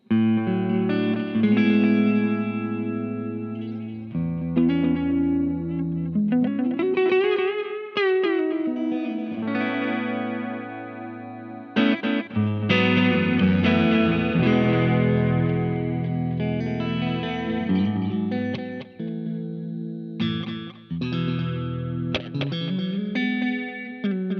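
Electric guitar playing chords through a Fender HammerTone Space Delay pedal with a gentle wavering, vibrato-like shimmer, sustained and fairly loud with no voices.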